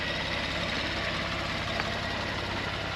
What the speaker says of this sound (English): how a flat six normally aspirated Porsche sounds